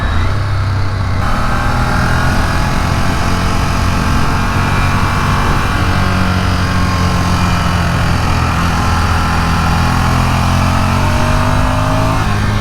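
A Ducati Monster motorcycle engine drones loudly and steadily while riding on the open road, a continuous mid-pitched hum mixed with wind rush, with no speech over it.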